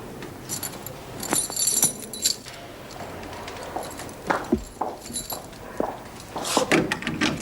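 Keys jangle in a prison setting, clinking in short bursts among footsteps, door sounds and shuffling, moderately close.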